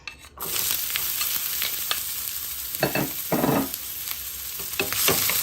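Onions sautéing in a little oil in a pan for peppered gizzard give a steady, close sizzle throughout, broken by several brighter scraping bursts from stirring; no one speaks.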